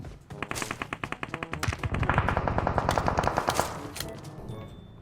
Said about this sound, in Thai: ยิงมาเลยจอน